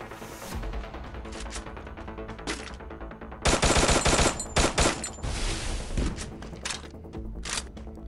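Bursts of automatic weapon fire from the XM8 rifle in Free Fire ring out, with sparse shots first and then a loud, dense volley of rapid shots in the middle. The firing stays close and prominent, with no talk over it.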